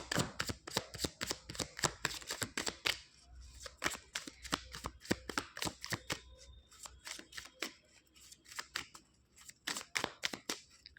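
Tarot cards are shuffled and drawn close by, a quick run of crisp slapping riffles and snaps in steady bursts, fairly quiet and with no voice over them.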